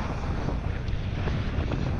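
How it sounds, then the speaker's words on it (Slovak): Wind gusts across the microphone on a downhill trail at Kalnica bike park, a steady, loud, rushing roar that buffets without pause for the whole two seconds. "Trošku fúka dneska."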